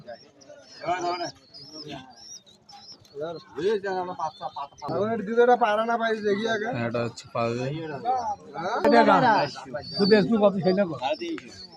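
Pigeons coo softly in the background at the Tulshihat pigeon market, mostly buried under someone talking close by throughout.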